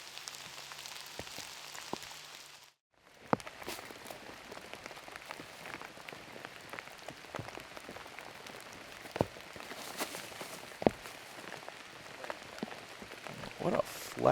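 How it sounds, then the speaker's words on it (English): Heavy rain pours steadily outdoors on a disc golf course, a dense continuous hiss with scattered louder drops striking surfaces nearby, briefly cutting out once before resuming. "Rain has officially intensified even more."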